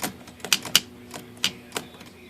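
Sticking keys on a Swiss Hermes Rocket typewriter are pressed one by one, giving about seven sharp, separate clacks at an uneven pace, close and clear with no talk.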